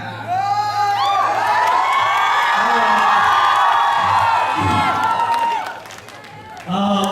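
A large crowd of children and adults cheers, whoops and claps loudly and continuously at a school quiz prize ceremony, the roar swelling then dipping briefly before surging again near the end.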